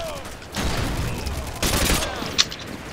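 AK-47 gunfire on the Nuketown map of Modern Warfare 2, with loud bursts of automatic fire in two main volleys and a sharp single crack near the end, heard alone.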